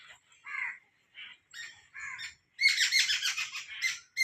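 Birds chirp and call around a house, first in short separate bursts of twittering, then swelling into a dense, continuous chorus of overlapping tweets close by, with no talking.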